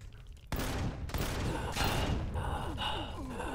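Rapid turret gunfire in the sci-fi survival game Empyrion Galactic Survival, heard inside an abandoned factory as a dense, continuous volley of loud shots with mechanical clatter.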